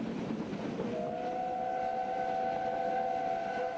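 Steam locomotive heard from inside the cab, a constant loud rumble and roar of running, with a sustained whistle tone rising in after about a second and holding to the end.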